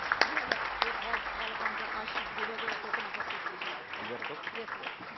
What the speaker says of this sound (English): Can we all have a round of applause for Jagat?